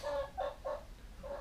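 Chickens cluck softly in a short, repeated series of four faint calls, heard alone at a distance.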